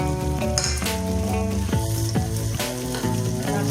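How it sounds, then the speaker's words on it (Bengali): Half-fried onion with freshly added chopped tomato sizzles loudly and continuously in a pan with occasional stirring, under steady background music and with no speech. "পেঁয়াজ প্রায় আধ ভাজা হয়ে গেছে। এবার আমি দিয়ে দিলাম টমেটো কুচি"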